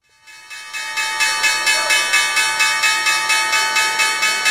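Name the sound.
trade bell ringing sound effect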